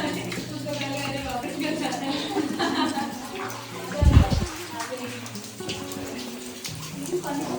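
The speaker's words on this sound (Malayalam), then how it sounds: "മുകളിൽ നിന്നൊക്കെ വെള്ളം ഇങ്ങനെ വരുന്നുണ്ട്" Water trickling and dripping down from overhead rock near a waterfall cave in Meghalaya, a steady wet wash running throughout with people talking over it.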